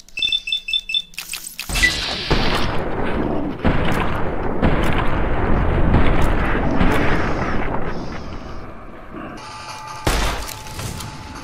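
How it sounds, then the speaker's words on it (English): Gunfire and explosive blasts in the video game Fallout New Vegas, a dense, loud barrage of shots and booms running for most of the span, with a few sharp bursts and a brief beeping at the start. "get ready to shoot him."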